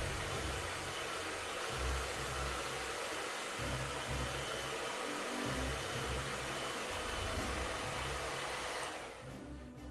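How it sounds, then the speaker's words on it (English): A hair dryer blows steadily at close range, a constant whooshing hum that cuts off near the end. "I'm just gonna give it a bit blast with the old hair dryer."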